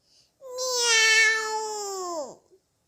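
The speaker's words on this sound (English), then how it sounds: ""Meow," he cried." A cat gives a single drawn-out meow, clear and close, steady for about two seconds before bending downward and fading into silence.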